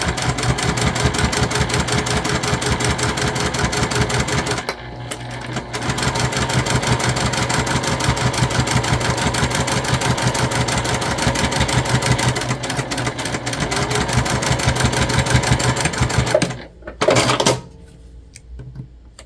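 A sewing machine stitches a leather key fob strap with a rapid, close, mechanical chatter, briefly pausing once, then running steadily before stopping near the end.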